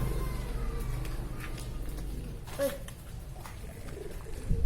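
Pigeons or doves coo softly in low, rolling calls over steady background hum, with a faint car passing.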